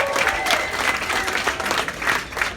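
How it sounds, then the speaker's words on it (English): Steady, dense audience applause from a crowd of married people responding to a comedian, continuous clapping with a few whoops rising over it, close and fairly loud throughout. "Clap if you're married."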